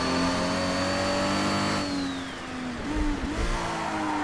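Car engine in the Japanese Drift Masters video game revs loudly and continuously, pitch rising and dropping through gear changes and lift-offs, steady and close with no talking.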